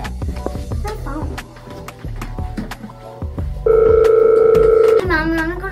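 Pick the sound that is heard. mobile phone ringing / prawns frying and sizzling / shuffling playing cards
mobile phone ringing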